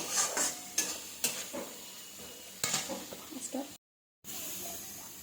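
Turmeric being stirred into spices in a pan for mutton kosha, with scraping strokes and a soft sizzle close by, broken by a brief silence near the end.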